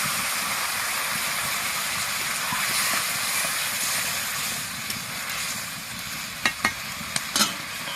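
Snails frying in oil as water is poured in, with a steady loud sizzle and hiss under scraping stirring, then a few sharp clanks of the utensil against the pan near the end.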